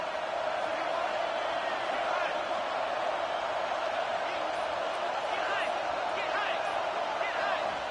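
Stadium crowd noise in the NCAA football video game, a dense continuous roar with scattered shouts and whoops, steady and loud throughout with no pauses.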